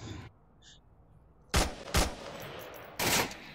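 Three loud, sharp sniper rifle shots ring out at uneven intervals in the VR shooter game Onward, each followed by a short decay over a quiet background.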